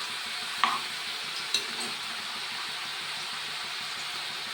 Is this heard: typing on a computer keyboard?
no